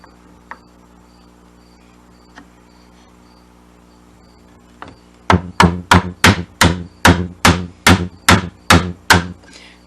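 Hand chisel chopping a mortise into wood: a run of about a dozen sharp, evenly spaced mallet-driven strikes, loud and close, following a few faint isolated taps.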